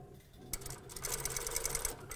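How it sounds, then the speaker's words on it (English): A sewing machine stitches fabric for a box top garment, starting with a short burst and then running steadily in a fast, rhythmic mechanical whir of needle strokes, close and clear with no talk. "Take a pin out, and I'm going to stitch"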